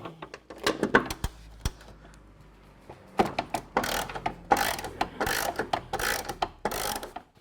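Ratchet wrench loosening the front suspension bolts on a Ford Falcon BF, a close, loud run of rapid clicking bursts separated by short pauses.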